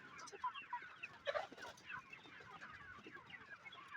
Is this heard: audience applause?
no